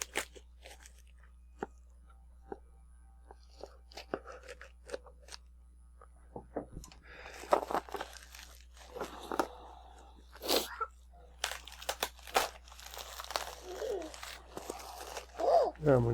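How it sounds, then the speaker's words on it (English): Scissors snip and crunch through plastic packaging of a Yeti microphone during an unboxing, starting quiet and then turning into a close series of irregular cuts and crinkles, with some faint talk. "now we got some more plastic we got to cut off"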